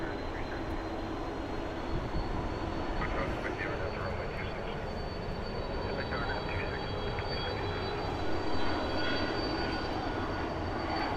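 Jet aircraft engine noise from a Boeing 787 Dreamliner at Phoenix Sky Harbor airport, a steady distant roar that holds throughout with a faint voice in the background.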